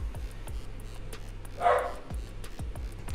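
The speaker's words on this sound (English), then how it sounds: "Hey, puppy." A dog gives one short bark in the middle, heard against a rhythmic ticking background that carries on throughout.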